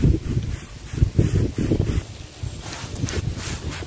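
Wind gusts through garden plants and a hibiscus, coming in loud buffeting bursts of rustle and microphone rumble in the first half, then easing to a softer steady blow.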